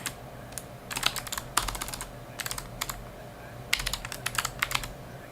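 Fingers type on a computer keyboard during a live watch-party stream, quick clustered clacking bursts separated by brief pauses, close up and unaccompanied by talk.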